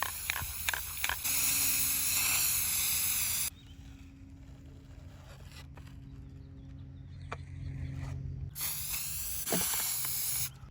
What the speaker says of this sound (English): Start spraying your planets.